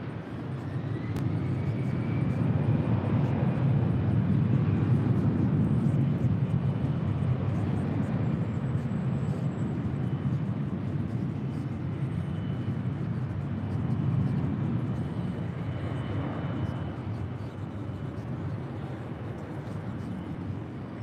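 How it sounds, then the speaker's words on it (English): Beechcraft King Air 350i turboprop taking off at LAX, its engine roar loud and steady throughout, swelling near the middle and then easing slightly as the plane climbs away, with no talk. "That is a Beach King Air"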